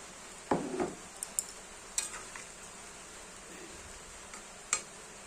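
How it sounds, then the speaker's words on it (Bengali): Fried paneer pieces going into a simmering vegetarian gravy, a soft plop and a few light utensil clinks over a faint, quiet bubbling, with scattered taps as the pan settles. "এবার আমি ভাজা পনিরগুলো দিয়ে দেবো"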